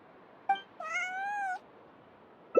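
A cat named Bonnie meowing in Genshin Impact, a short chirp followed by one drawn-out, clear meow and a brief final squeak, close and alone against quiet.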